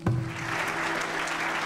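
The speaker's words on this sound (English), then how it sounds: "I feel like that's a round of applause just for me." Game sound effect of a crowd applauding when a theater is joined in the Farthest Frontier video game, a short burst of clapping that starts with a sharp attack and holds steady for under two seconds.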